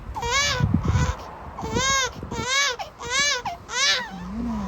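A baby cries in repeated wailing bursts, loud and close, with short pauses between cries, in a countryside home in Finland.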